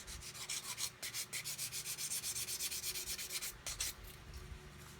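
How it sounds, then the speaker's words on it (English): Rapid rhythmic rasping strokes of a 220-grit sanding stick across plastic model parts, close and steady, about twenty back-and-forth passes with a brief pause near the middle. "I've got a 220 grit sanding stick, I'm just going to sand"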